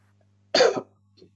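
One short, dry cough sounds close in a quiet room over a low hum, followed by a faint trailing throat noise.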